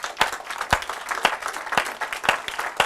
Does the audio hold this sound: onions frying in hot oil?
no